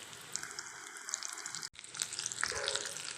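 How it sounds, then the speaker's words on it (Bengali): Egg chops (dim chop) frying slowly in oil in a pan over low flame, a steady close hiss with scattered bubbling crackles, briefly cut off midway, no talking. "এই চপগুলোকে যত আস্তে আস্তে ভাজবে তত সুন্দর ভাজা যায়।"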